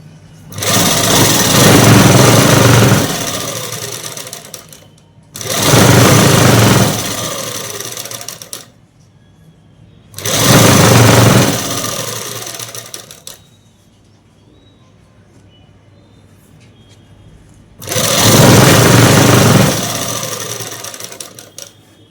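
Sewing machine stitching cloth for matching mother-and-daughter dresses, loud close whirring runs in four bursts of two to four seconds with quiet pauses between.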